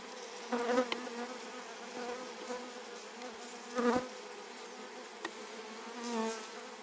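Honey bees buzzing around an open hive during an inspection, a soft steady drone with a few louder passes as individual bees fly close to the microphone.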